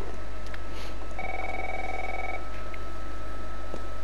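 A telephone rings in the video game The Last of Us Remastered, giving a single steady electronic ring of about a second over a constant low hum, fairly quiet and alone.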